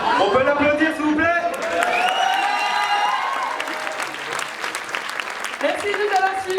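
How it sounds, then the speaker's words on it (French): An audience at the end of a live show breaks into sustained applause, with dense clapping and some cheering throughout and a voice speaking over the crowd. "On peut l'applaudir s'il vous plaît."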